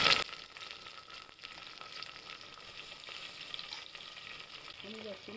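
Tomatoes drop into hot oil with a loud initial splash-sizzle, settling into a steady close frying hiss for a few seconds.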